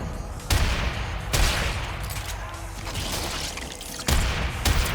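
In the video game Warframe, an explosion throws debris that comes down in a series of sharp, loud bursts and crashing impacts, separated by rumbling, clattering stretches.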